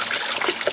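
Raw chicken is rinsed under running water, a brief, close, steady trickle and splash with no voices.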